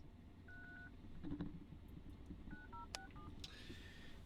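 Touch-tone telephone keypad dialing a number, a quick series of short beeping tones in two bursts, faint and close against low background hiss.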